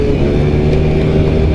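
Small Suzuki Lets 4 50cc scooter engine running steadily close by, a continuous even drone with a faint whirring tone and no talk.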